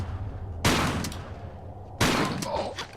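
Two loud shotgun blasts in a Tomb Raider custom level, about a second and a half apart, each with a sharp crack and a decaying echo.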